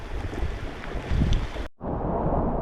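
Strong wind roars over a microphone aboard a sailboat cruising the San Juan Islands in fall. The gusts are loud and continuous, with a sudden brief dropout before the rush resumes.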